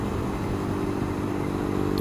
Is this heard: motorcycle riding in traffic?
yes